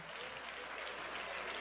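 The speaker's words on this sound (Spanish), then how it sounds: "si usted quiere, usted aplaude" Applause from a church congregation during a sermon, a steady even clatter of clapping that fills the space without pause, with no voices standing out.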